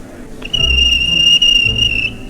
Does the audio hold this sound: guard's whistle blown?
yes